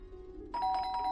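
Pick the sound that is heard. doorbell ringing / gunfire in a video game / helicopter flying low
doorbell ringing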